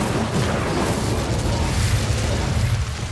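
The Incendio fire spell from Hogwarts Legacy erupts in a loud, rumbling whoosh, a sustained fiery roar that fills the few seconds without a break.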